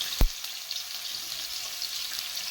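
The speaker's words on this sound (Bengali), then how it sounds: "ইচ্ছাটা একটু ভাজা ভাজা করে নিয়ে" Small shrimp fry in a pan of hot oil spiced with panch phoron and green chili, a soft, steady hiss close by, opened by a single sharp knock against the pan.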